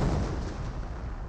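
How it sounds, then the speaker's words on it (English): Rifle grenades firing in the Company of Heroes video game: a loud, dense, continuous booming barrage of blasts, close and heavy, with no voices over it. "More rifle grenades, of course, being fired."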